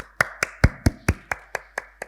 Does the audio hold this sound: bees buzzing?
no